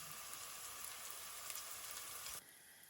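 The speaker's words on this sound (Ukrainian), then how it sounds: "Морку нарізаю соломкою і також перекладаю у пательню." Steady broadband sizzle of carrot strips frying in a pan, continuous and close, cutting off abruptly near the end.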